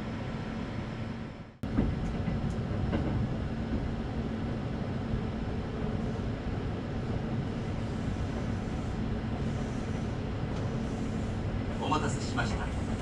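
Interior rumble of a Kintetsu 12200 series limited express train bound for Osaka Namba, a steady low drone after a sharp knock, with faint announcement-like voices over it.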